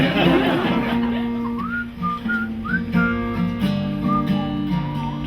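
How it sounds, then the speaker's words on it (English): A person whistles a short, wavering tune with gliding notes, broken by soft chuckles. "I can't whistle and laugh at the same time."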